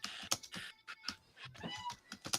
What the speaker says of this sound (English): doing some internet typing there